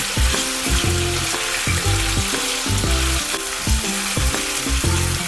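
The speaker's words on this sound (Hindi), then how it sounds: "गैस को मीडियम आंच पर कर देंगे और आलू को ऑयल के साथ भूनेंगे" Small-cut potato pieces fry in oil over a medium gas flame, a loud steady sizzle with constant crackle and a few clinks from stirring throughout, no voices.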